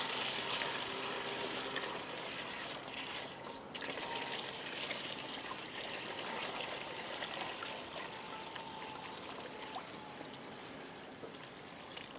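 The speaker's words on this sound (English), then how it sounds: "Carefully pour the water there." Water poured steadily into a tree-planting cocoon outdoors, a continuous soft trickling and splashing lasting the whole stretch at moderate distance.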